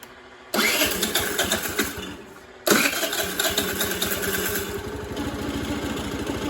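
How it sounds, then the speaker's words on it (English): A scooter engine that has had a dying battery cranks and catches twice, with a short drop in between, then settles into a close, steady idle with a light mechanical rattle. "even though there's a little rattle, the scooter does run"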